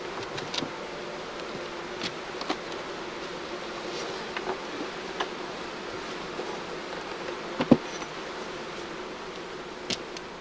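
Honey bees at a hive give a steady, even drone, with occasional faint clicks and taps rising briefly above the continuous buzz.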